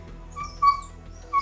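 A human voice imitates a dog yelping after being struck by a rock, a few short high whimpering yips, close and fairly quiet.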